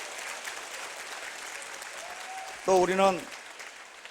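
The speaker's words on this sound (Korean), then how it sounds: "우리 감사의 박수 한번." Audience applause fills a hall throughout, a dense steady wash of clapping from a large crowd at a corporate lecture, with a voice briefly speaking over it near the end.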